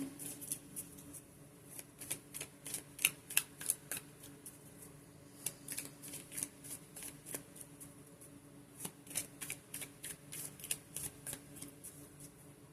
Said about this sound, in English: Go ahead and give that a quick shuffle.